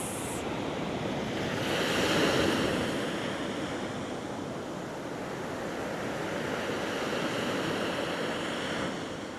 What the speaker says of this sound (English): Maybe listening to the waves.